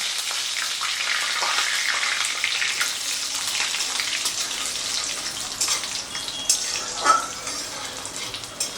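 Tempering spices with split urad dal and a curry leaf crackle and spit in hot oil, a bright busy sizzle with a few sharper pops near the end, close and fairly soft.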